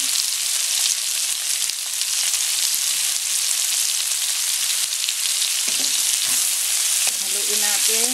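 Bean sprouts hit a frying pan with soup stock for ginisang toge, producing a loud, dense, continuous sizzle with a few stirring scrapes and faint voice-like tones near the end.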